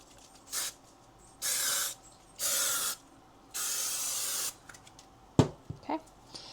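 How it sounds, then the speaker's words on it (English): Adhesive spray hisses onto one side of a mat for a fabric picture frame in four bursts, one short and three longer and steadier, followed by a few light taps and clicks. "And then you will spray one side of your mat."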